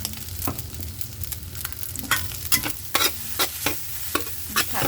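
A spatula scrapes and tosses egg fried rice with chili in a hot pan, giving repeated sharp scraping strokes over a continuous low sizzle, close and fairly loud, with no voices.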